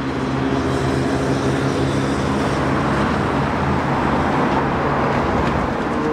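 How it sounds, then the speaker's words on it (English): Steady road traffic rumbles continuously as cars pass nearby on a fine day, a dense broadband wash with no distinct individual passes and no talking. "We'll see now, these birds twittering and the sound of cars going past."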